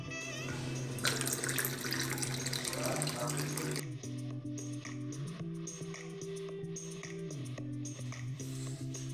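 Hot water poured over tamarind, a continuous close splashing stream with a steady hum beneath, the pouring changing character partway through as the vessel fills.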